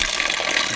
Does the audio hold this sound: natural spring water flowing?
yes